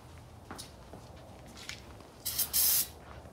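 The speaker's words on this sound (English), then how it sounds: "Oh no, I'm almost out of brake cleaner." An aerosol can of brake cleaner is sprayed in a garage during car suspension work. Two short, loud hissing bursts come close together near the end, after quiet shuffling.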